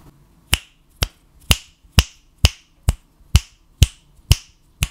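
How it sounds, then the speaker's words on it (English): Finger snaps picked up by a Fifine A6T USB microphone, nine sharp, evenly spaced snaps about half a second apart, close and crisp against a quiet background. "this time I'll snap my fingers"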